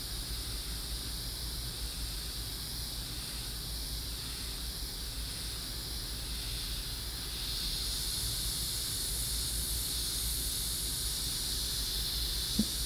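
Airbrush spraying paint during target practice, a steady airy hiss of compressed air running continuously and alone, growing slightly louder partway through.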